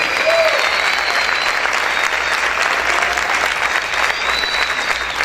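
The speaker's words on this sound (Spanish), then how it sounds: "Vamos a gritar y vamos a aplaudir fuerte al Rey." A church congregation claps loudly and continuously, a thick, even roar of applause heard alone from start to finish.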